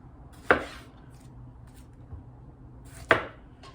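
A knife strikes a cutting board twice while halving tomatoes, two sharp, close chops about two and a half seconds apart in a quiet kitchen.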